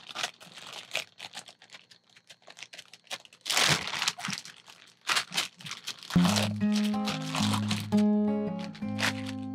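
Plastic sheet crinkles and rustles in close, irregular bursts as it is secured around a mushroom block, later joined by steady background music.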